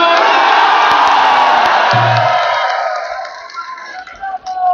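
A huge political rally crowd at Gandhi Maidan roars and cheers, dense and loud from the start, then fades toward the end as the noise thins into scattered shouts.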